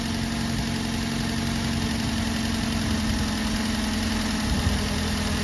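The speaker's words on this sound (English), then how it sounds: "down to regular idle speed because it's on a cold start. You can hear it slowing down." Ford Focus engine idling after a cold start, its speed settling down. The idle drones loud and steady at close range, with no voices over it.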